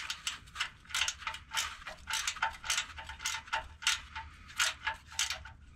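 Ratcheting 12 mm wrench clicking while turning a bolt on the starter of a 1996 Toyota 4Runner Limited 4x4, a quiet, close, rhythmic burst of ratchet clicks repeated in quick strokes, with no talk.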